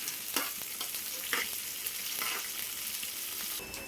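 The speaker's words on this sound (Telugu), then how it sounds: "ఇప్పుడు ఉల్లిపాయ వేసేస్తున్నా తర్వాత కరివేపాకండి కరివేపాకు కూడా వేసేసి చక్కగా వేపేద్దాం" Onion and curry leaves fry in a tempering for ajwain rice, a quiet continuous sizzle broken by a few short scraping stirs of the pan, close and alone.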